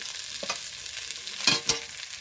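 Chopped capsicum and green chilli stir-frying for chicken fried rice: a continuous close sizzle with a few sharp bursts as the vegetables hit the hot pan and are tossed, no voices.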